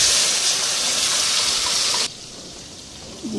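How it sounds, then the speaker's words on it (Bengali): Water poured into a pan of spices, a steady close rushing gush that stops abruptly partway, leaving a quieter background hiss. "একটু জল দিয়া মশলাটা দিয়া দিই"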